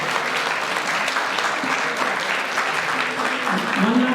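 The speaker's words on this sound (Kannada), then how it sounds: "ಜೋರಾಗಿ ಮತ್ತೊಮ್ಮೆ ಚಪ್ಪಾಳೆ" Audience applause fills a school Yugadi celebration stage event, dense and steady throughout, with a voice faintly audible near the end.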